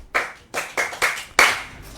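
Audience clapping in a few short, loud bursts of hand claps separated by brief pauses, close and with no talk over them.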